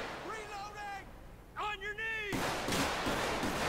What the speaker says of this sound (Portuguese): tem alguém atirando meu parceiro